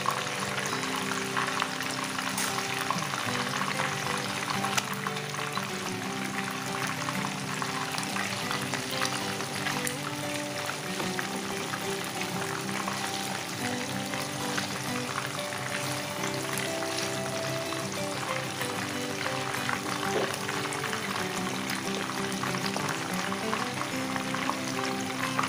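Rupchanda (pomfret) fish frying in oil in a pan over medium heat, giving a steady, dense sizzle that runs without a break the whole time, with no talking.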